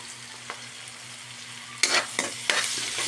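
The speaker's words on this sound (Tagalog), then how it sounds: "Igisa muna tayo ng bawang sibuyas." A low hum gives way to a loud sizzle as garlic and onion hit a hot pan, followed by stirring scrapes and bursts of crackling frying.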